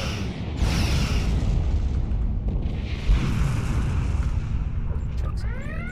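Heavy starship explosions in the space combat game Star Trek Online, a dense continuous rumbling roar of booms and blasts with a sharp swell near the middle and faint zaps toward the end.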